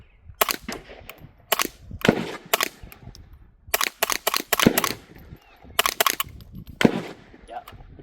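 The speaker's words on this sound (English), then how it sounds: "there's as much sound from it hitting the berm as there is from the gun" Sharp, loud reports from a Ruger 10/22 takedown rifle built as a short-barreled rifle on a Piglet chassis, fired at an outdoor range, each crack followed by a dull impact thump from the earthen berm, in irregular bursts of single shots and quick strings.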